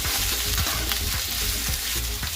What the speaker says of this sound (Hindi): फुल फ्लेम में ही इसे फ्राई करना है।